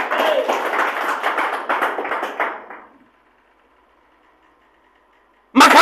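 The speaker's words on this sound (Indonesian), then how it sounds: "Tepuk tangan bagi Tuhan." A church congregation at an evangelistic worship service claps loudly and steadily for about three seconds, then falls almost silent before a sudden loud burst at the very end.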